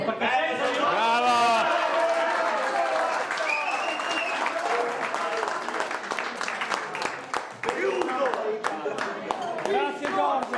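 Festival crowd at a village pork feast clapping and cheering, sustained applause with shouted voices over it, thinning out toward the end with scattered individual claps.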